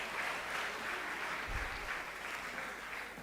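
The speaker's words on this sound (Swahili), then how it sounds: "Makofi mengi kwake." A room of guests applauds an honouree at a Tanzanian judiciary award ceremony, a steady, fairly soft round of clapping that lasts a few seconds.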